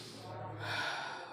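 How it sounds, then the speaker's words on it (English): A forceful breath during a pranayama breathing exercise, heard close and steady with a sharp, gasping, snort-like quality and no talking over it. "we can do some sort of breathing exercise like pranayama"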